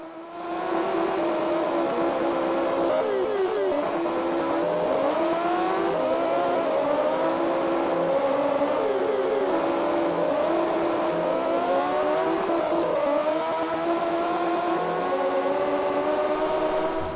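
A Honda RVF motorbike engine screams at top speed in an Amiga racing game, a steady high-pitched synthesized whine with wavering pitch sweeps as gears and revs shift, loud and continuous with no talking.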